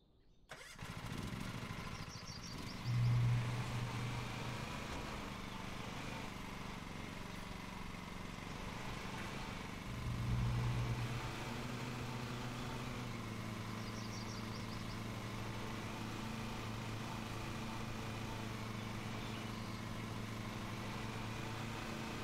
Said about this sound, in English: I'm gonna go lawnmower first.